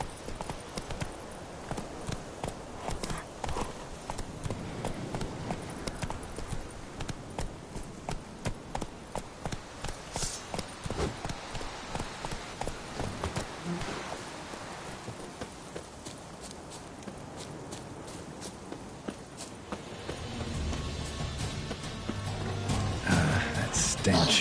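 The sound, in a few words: horse hooves clip-clopping while riding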